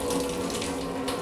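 Water pouring in a steady continuous stream, as if from a jug, into flour while mixing dough for a Ramzan cooking dish, with a close, splashy hiss and no talk.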